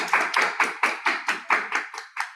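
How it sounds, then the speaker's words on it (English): Steady rhythmic hand claps from an audience at an internship award showcase, about ten in a row at an even pace, moderately loud with no voices or other sounds alongside. "please join me in giving a round of applause"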